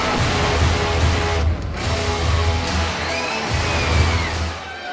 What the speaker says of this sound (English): Listen to these crowds here.